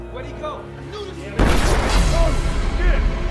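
A sudden loud burst of gunfire cuts in partway through, followed by a sustained roar of shots and noise, with voices faintly beneath.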